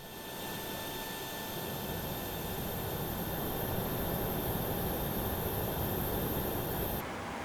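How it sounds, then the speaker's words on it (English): Auxiliary power unit of a PMDG 737-700 in MSFS2020, a steady, even broadband whir with thin high whines held on top, unchanging for about seven seconds before it dips slightly near the end, with no talk. "Can hear the APU running."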